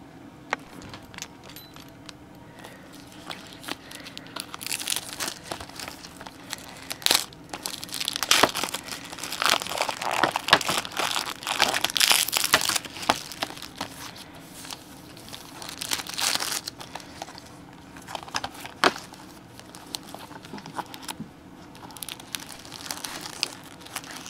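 Plastic wrapping on a four-movie collection crinkles and crackles in irregular bursts during unboxing, closely handled and moderately loud, with quieter pauses and faint handling taps in between.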